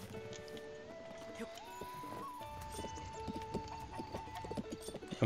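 A horse in a Zelda video game: hooves clop steadily with a brief whinny, set against soft in-game ambience and fairly quiet overall.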